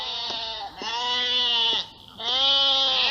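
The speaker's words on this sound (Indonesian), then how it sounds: "Ya, kambing-kambingku sudah pulang sendiri." Goats back home in their pen bleat in three long, wavering, nasal cries, close and loud, each call separated by a brief pause.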